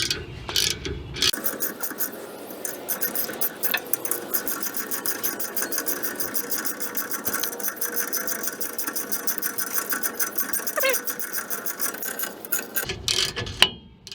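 A steady mechanical whir and rapid ratcheting buzz, like a power tool driving a rotor puller bolt to push out a stuck brake rotor, continuous and close for most of the clip.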